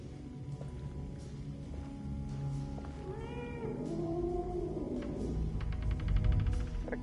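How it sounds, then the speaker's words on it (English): A cat meows in the video game Alone in the Dark, a few drawn-out, wavering calls in the middle of the clip over a low, dark game ambience, with no speech. "Cat."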